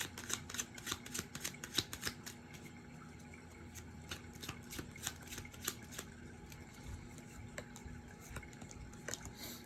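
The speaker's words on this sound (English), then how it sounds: "Let's get one more card from the Star Seed Oracle." A Star Seed Oracle card deck is shuffled, giving quiet, rapid, irregular snaps and flicks of cards in a continuous run with no voices.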